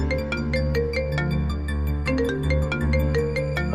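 A melodic phone ringtone plays steadily with repeating tonal notes and bright chimes, loud and close, with no voices, in a TV drama scene.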